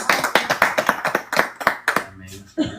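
A church congregation claps in a quick, uneven rhythm of distinct sharp hand claps, close and moderately loud, fading into a brief voice at the end.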